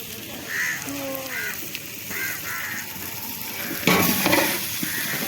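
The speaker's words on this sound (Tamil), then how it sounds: "அடுத்ததா அண்ணே உருளைக்கிழங்கு போடுறாரு" Potatoes tipped into onions frying in a pan during outdoor cooking with pilgrims on the Thaipusam foot pilgrimage, giving a steady broadband sizzle with scraping and clinking, a louder burst of frying partway through.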